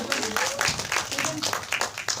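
An audience applauds a cast member at a film cast announcement press conference, with dense, close clapping under a speaker's voice.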